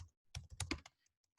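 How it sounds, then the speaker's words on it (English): Keystrokes on a computer keyboard in a quiet room, a quick burst of several close, crisp taps with short gaps, then trailing off into near silence. "once I've started typing my timestamp feedback, it pauses the video"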